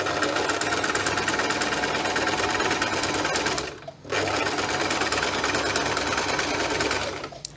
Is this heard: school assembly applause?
no